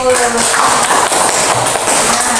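Students clap together in a school classroom, a loud, steady, dense wash of hand claps filling the whole moment without a break.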